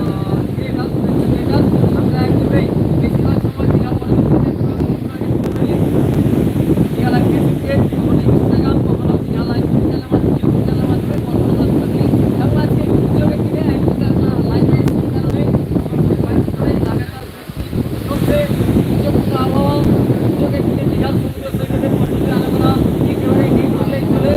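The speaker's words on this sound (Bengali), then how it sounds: "প্রবল গতিতে চলছে বাতাস" Strong wind sweeps Old Digha beach during heavy monsoon rain from a deep depression, roaring in a dense continuous rush that buffets the microphone, loud and close, with a voice speaking underneath at times.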